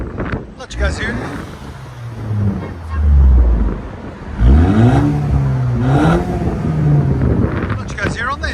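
A car with its muffler and resonator deleted revs up, its engine rising and falling in pitch through several surges under wind noise, with someone talking over it.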